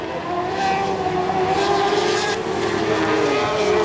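Single-seater karts with motorcycle engines drone steadily as they pass close by in a kart cross qualifying race, a continuous high-pitched buzz with shifting pitch and a brief tire squeal.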